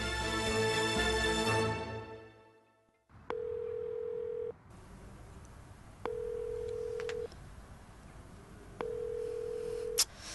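A phone call rings unanswered: a tone fades out, then after a short silence a repeating ringback tone sounds in three evenly spaced long beeps over a quiet hiss, ending with a brief click.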